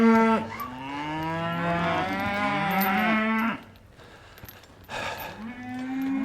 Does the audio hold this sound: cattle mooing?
yes